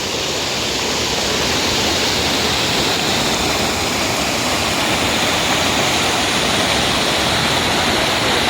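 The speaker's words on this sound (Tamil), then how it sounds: "இப்படி ஆர்ப்பரிச்சிட்டு கொட்டது பாருங்கள்" An overflowing lake pours over its edge like a waterfall, making a loud, continuous roar of rushing water that stays steady and close throughout, with no voices.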